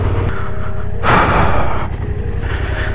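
A motorcycle rider breathes heavily in the desert heat on a Nevada backcountry route, one long rough exhale or gasp standing out over a steady background rumble, close and loud.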